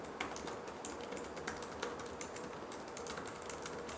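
Typing on a Lenovo Legion 5 laptop's full-size TrueStrike keyboard with 1.5 mm key travel, a quick, irregular run of soft clacking keystrokes, close but quiet, with no voices.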